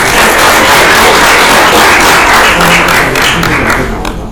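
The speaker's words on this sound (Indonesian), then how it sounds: "Tepuk tangan dong" An audience at a relaxed panel talk in Surabaya bursts into loud, dense applause that holds steady for several seconds, then tapers off toward the end.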